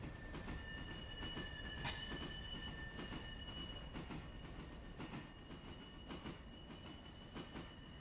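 Train in the Railroader video game rolling steadily with rhythmic wheel clatter and a sustained high metallic squeal of wheels, loud and continuous throughout with no voices.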